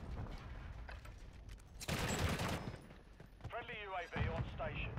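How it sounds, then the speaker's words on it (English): Bursts of automatic gunfire in the video game Call of Duty, a loud dense volley in the middle amid quieter scattered shots, with someone talking over the action. "He's shooting up front."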